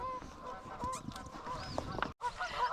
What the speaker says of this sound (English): I do kind of love the sound of geese. Like that racket they're making is just such a cool sound.